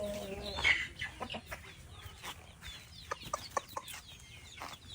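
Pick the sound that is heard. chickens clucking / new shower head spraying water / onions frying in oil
chickens clucking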